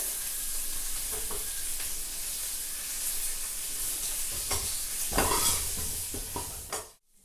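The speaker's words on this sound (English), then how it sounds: "Now give it a good mix." A gooseberry mixture with turmeric being stirred in a hot pan for instant gooseberry pickle, a continuous soft sizzle with spoon scrapes that rise around the middle before cutting off abruptly at the end.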